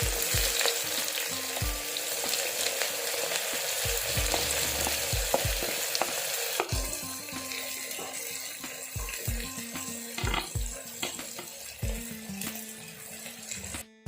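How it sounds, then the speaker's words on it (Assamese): Dried red chillies and finely chopped onion fry in hot oil with a steady, close sizzle and crackle, broken by occasional scrapes and stirring knocks in the pan, with no talking. "মই ইয়াতে ফাৰ্ষ্ট টাইম শুকান জলকীয়া কেইটা দি দিম, আৰু মই ইয়াতে কাটি থোৱা মিহি মিহিকৈ পিঁয়াজখিনি দি দিলোঁ।"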